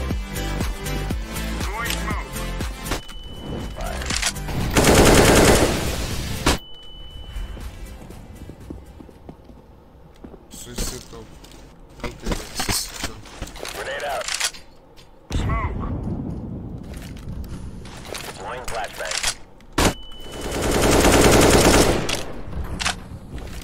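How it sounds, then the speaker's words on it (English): AK-47 fire in the shooter game CS:GO, several bursts of rapid automatic shots spread across the clip, with a person talking over the gameplay sounds between the bursts. "I'm gonna show you guys how to play AK-47"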